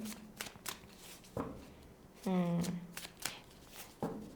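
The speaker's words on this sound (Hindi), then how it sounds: "सो विद क्रिस्टलिस टैरो हम लोग 4 कार्ड निकालेंगे" Tarot cards are shuffled by hand in a series of crisp riffles and slaps, with a brief fluttering ruffle midway, while someone talks over them.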